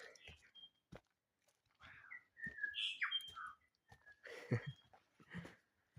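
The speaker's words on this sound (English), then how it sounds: "you'll be able to hear as I'm talking throughout this video the beautiful bird sounds, bird song." Bird calls and whistled chirps sound faintly through quiet New Zealand bush, scattered irregularly between soft rustles and breaths.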